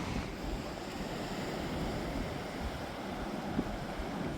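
Steady roar of ocean surf washing against rocks at a point on the Portuguese coast, continuous and fairly distant, with wind buffeting the microphone.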